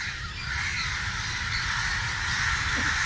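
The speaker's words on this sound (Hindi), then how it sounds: "ऊपर से परिंदों की ये खूबसूरत सी आवाज़" Crows call from overhead at a home, with rough caws layered over a constant outdoor wash of broadband noise and a low rumble, at moderate distance.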